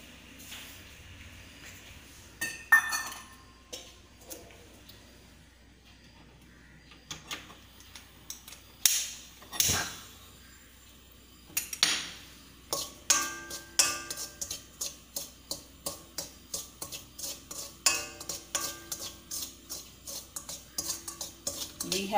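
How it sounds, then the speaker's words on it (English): Upma ingredients dry-frying in a pan, heard as a rapid run of light scraping and tapping strokes from a spoon against the pan, growing steady and rhythmic over time. "you have to dry fry this till light pink"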